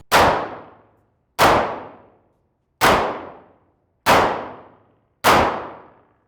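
A revolver is fired one-handed: five loud, sharp shots evenly spaced about a second apart, each with a short ringing decay.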